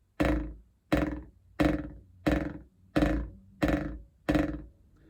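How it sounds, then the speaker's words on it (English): Seven separate drumstick buzz strokes, each packing many bounces into a short dense burst, played alone at an even, unhurried pace with brief silences between. "That has that buzz quality."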